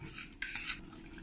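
A spoon stirring a thick fish and banana flower curry in a pot, a faint, brief metallic scrape and clink over quiet kitchen background, no talking.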